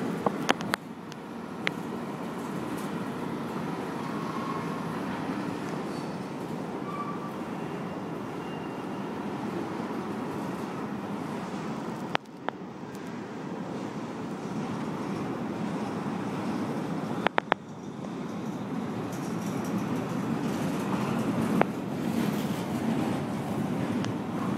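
A short Union Pacific freight train passes at a distance, heard as a continuous broad rumble and rolling noise with occasional sharp clicks and gusts of wind, no talk over it.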